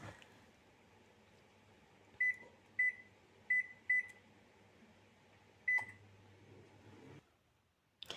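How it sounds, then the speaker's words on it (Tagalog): An air fryer cooks pork ribs with a low, steady fan hum, broken by several short electronic beeps at intervals before the hum cuts off near the end. "isinalang ko na sa air fryer ng mga amo ko"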